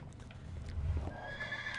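A Minecraft horse whinnies with hoof clip-clops in the video game, a short neigh rising over soft steps, moderately loud and alone without talk.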